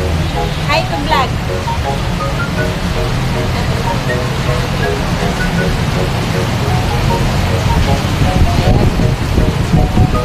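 Steady heavy rain pours down with a constant dense hiss, while people talk and call out over it in the background.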